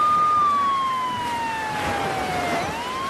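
An ambulance siren wails with a steady, slowly falling tone, moderately loud and passing by on its own with no voices.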